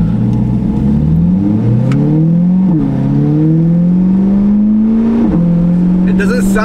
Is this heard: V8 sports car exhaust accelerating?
yes